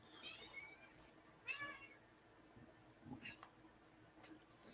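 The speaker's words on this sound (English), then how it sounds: "You can hear my cat." A house cat meows several times close to the microphone, short rising cries over a quiet room hum, with a bit of talk between them.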